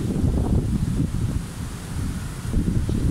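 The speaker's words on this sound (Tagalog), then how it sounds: "Ang lakas ng hangin." Strong wind roars and buffets the microphone in continuous gusts, with a low rumbling rush and no voices.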